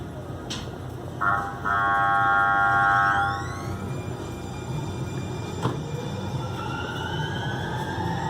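A trolley train rumbles steadily nearby in downtown San Diego while a loud horn sounds for a couple of seconds, followed later by rising mechanical whines and track noise.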